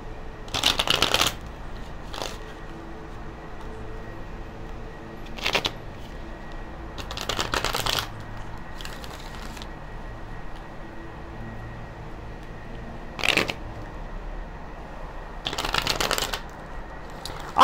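A tarot deck is shuffled in several separate bursts of crisp riffling, close to the listener, with quiet pauses in between.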